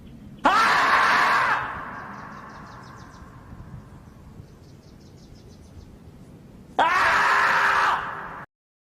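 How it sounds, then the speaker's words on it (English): A marmot screaming in a played-back clip, two long loud shrill cries several seconds apart, each harsh and sustained before cutting off, with faint insect-like chirping between them. "I need the screaming marmot with sound."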